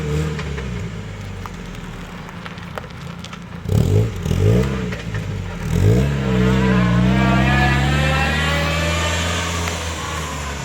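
A Mazda Miata's engine revs hard in a couple of sharp bursts, then holds a rising, sustained drone as the car is backed into a driveway. The engine is close and loud, with no talk over it.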